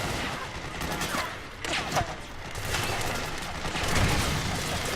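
Distant, steady gunfire in Metal Gear Solid 4: scattered shots and bursts over a noisy battlefield background, fairly faint throughout.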